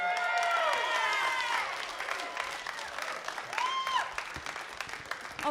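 Applause and cheering from a crowd at a youth rock band competition semi-final, a continuous wash of clapping with voices rising above it, moderately loud and steady throughout.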